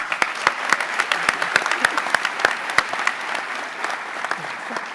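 Crowd at a high school senior awards night gives award-winning students a round of applause, continuous clapping with distinct close hand claps standing out, steady and moderately loud throughout.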